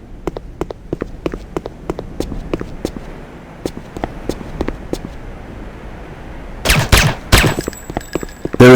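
A Vervac Commando Elite Falcon automatic pistol fired on a firing range in the game Renegade: a steady string of crisp single shots, then a louder, denser cluster of rapid reports near the end.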